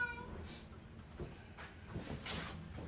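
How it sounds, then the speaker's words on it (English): A house cat meowing softly, a few brief muffled mews over low room noise and faint rustling, fairly quiet and close. "It is your cat."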